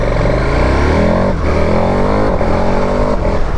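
A 2021 KTM 1290 Super Adventure S motorcycle accelerating hard and loud up close, the engine climbing in pitch through repeated gear changes with brief dips between rises.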